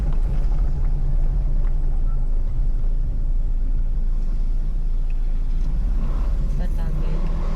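Steady low rumble of road traffic on a village street in the Philippines, vehicles droning continuously with a louder pass near the end, while people talk over it throughout.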